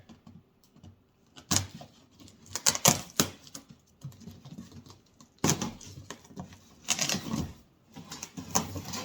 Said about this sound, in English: So we're going to cut across that, and down there.